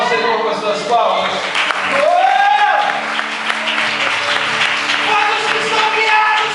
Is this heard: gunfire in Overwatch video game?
no